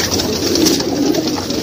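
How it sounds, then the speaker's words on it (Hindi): Low, rounded pigeon coos repeat steadily over a constant background hum at a pigeon market in Old Delhi, fairly close. "ये गोले होते हैं उड़ने वाले।"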